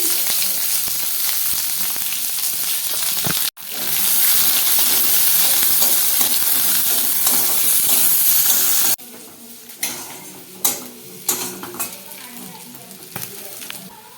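Chopped chili and onion hit hot oil tempered with cumin seeds and bay leaves, letting out a loud, dense sizzle that cuts out sharply and drops to quieter frying with a series of spoon-against-pot clatters.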